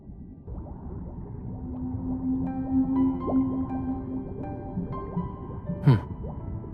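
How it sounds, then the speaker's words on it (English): Whale song resounding in the distance, with long drawn-out moaning calls and sweeping tonal glides over a low watery rumble, ending in a brief higher squeal. "A whale song resounds in the distance."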